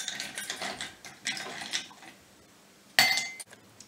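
Ice cubes clink into a glass for an iced dalgona coffee drink, a few bright rattling drops early, then one sharp loud clatter near the end, close and without talk.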